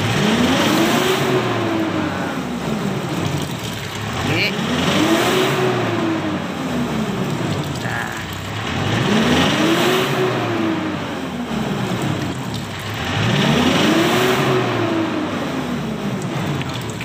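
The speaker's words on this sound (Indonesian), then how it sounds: "yuk gas dipecut-pecut aja gasnya" A Mitsubishi Strada Triton engine with black smoke and high fuel use revving up and down in four long, even cycles, loud and close, with no speech.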